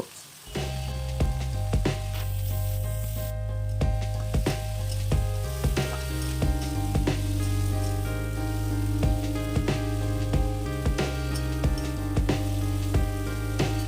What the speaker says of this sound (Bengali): তেলটা গরম হয়ে গেলে আলু আর ফুলকপিটা একসঙ্গে দিয়ে একটু হলুদ গুঁড়ো আর একটু নুন দিয়ে ফুলকপি আর আলুটাকে হালকা ভেজে নেব